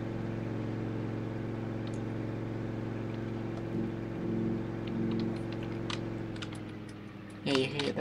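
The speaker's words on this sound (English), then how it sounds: "Oh, there's a stick in my exhaust." A car engine in Farming Simulator 22 idles with a steady low drone and a faint rattle from a stick lodged in its exhaust, with brief clicks and a louder burst near the end.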